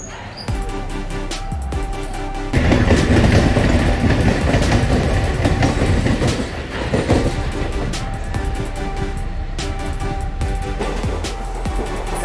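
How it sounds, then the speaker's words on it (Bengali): The Sealdah–Silchar Kanchanjungha Express rumbles loudly and steadily through Dum Dum station without stopping, a clattering, rattling roar that swells after a quieter start and stays close throughout. "এই আমাদের ট্রেনটা এই দমদম প্ল্যাটফর্মে ঢুকে গেছে"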